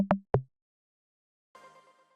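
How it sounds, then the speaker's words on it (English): A small synthesized tom plays two quick, punchy hits, goes silent, then returns as a fainter, buzzier tone that fades out. "the last thing we've got here is this little tom thing that I made"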